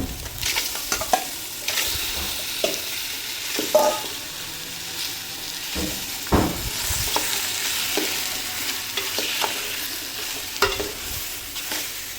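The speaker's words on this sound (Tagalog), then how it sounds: "ilagay na rin natin yung ating karne para igisa natin" Pork pieces sauté in a hot pan, giving a continuous crackling sizzle broken by scraping stirs and clinks of a utensil, with no voices.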